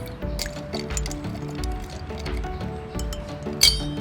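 Ice cubes drop into a cocktail shaker with repeated light clinks and rattles, plus one sharper clink near the end, under faint background music.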